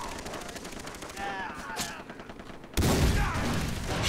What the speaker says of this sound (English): Shotgun in the face.